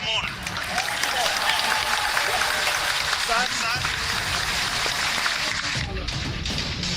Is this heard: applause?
yes